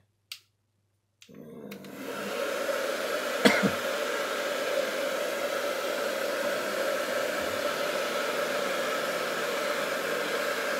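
A heat gun or hair dryer starts up after a brief click and then blows a steady, close airy whoosh to warm the side of an iPhone and loosen its battery.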